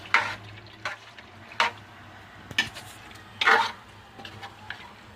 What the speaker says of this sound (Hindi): अब हम इसे अच्छे से मिक्स करेंगे